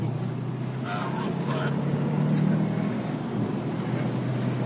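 Subaru WRX driving on Engineer Road, heard from inside as a steady, loud engine and road drone that holds throughout, with faint voices briefly rising over it.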